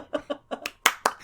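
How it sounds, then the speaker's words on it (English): Sparse, close hand claps from a small studio group, about seven sharp hits in an uneven rhythm with no crowd roar behind them. "I will wait for applause."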